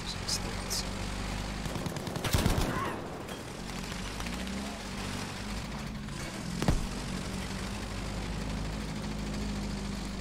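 Bren gun fire in the video game Battlefield V comes as two short, fairly faint bursts, one early and one later, over a low steady engine-like background rumble.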